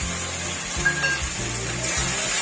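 Spice paste with tomato, onion and green chili frying in a pan for a chicken curry, a steady soft sizzle with occasional stirring scrapes and light clinks.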